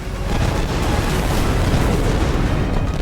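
Naval cannon fire from a sea battle between British and French-Spanish ships, a dense continuous roar of heavy booms and rumbling explosions with no break, loud and close throughout.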